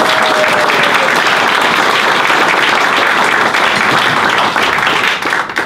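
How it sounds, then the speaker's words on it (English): Sustained applause from an audience at a science talk held in a bar, dense and loud throughout, then thinning out and tapering off near the end. "I'll call for another round of applause"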